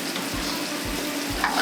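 Fish fillet searing in a hot pan at a restaurant kitchen, a steady broadband sizzle running throughout with a few low thumps from the pan, close and fairly loud, no talking.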